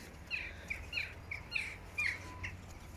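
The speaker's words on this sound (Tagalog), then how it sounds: "Ang daming ibon." Several birds chirp and squawk outdoors in Swedish nature, a series of short, sharp calls repeating roughly every half second, moderately close against a quiet background with no talking.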